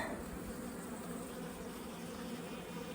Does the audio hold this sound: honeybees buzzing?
yes